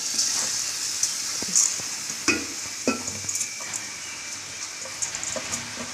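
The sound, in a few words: rice frying in pan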